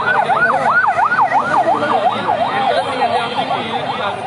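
An ambulance siren wails near a fire at the Maijdee hawkers market, a loud, steady up-and-down yelp cycling rapidly and continuously over busy street noise.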